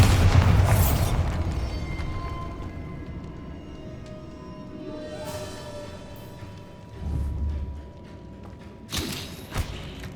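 A Bombarda spell blast in Hogwarts Legacy erupts with a deep booming thud and crumbling debris, followed by creaking, rumbling settling and a couple of later sharp impacts, with no speech over it.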